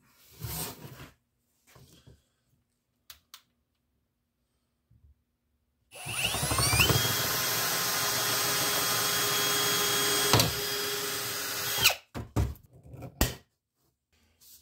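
A power drill drills a hole for a rivet on a homemade pool ball washer, running steadily for about six seconds with a rising whine at the start, between brief handling knocks and quiet gaps.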